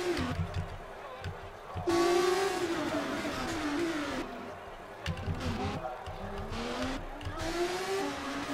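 GP3 open-wheel race car in 2015 Russia qualifying on a damp, drying track, its engine revving loudly and rising and falling through gear changes beneath continuous commentary.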